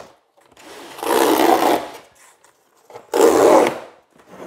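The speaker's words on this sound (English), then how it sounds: "Useful, you know, rip cord on the side of the box." A cardboard box torn open by pulling its rip cord: two loud, close ripping bursts, the first about a second long and the second shorter, separated by quiet moments with faint handling noises.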